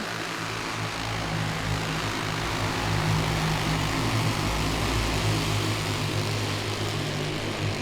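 Champ karts race around Langley Speedway: a steady, loud drone of small engines runs continuously at close range, with a constant low hum and no clear breaks or passes. No talking.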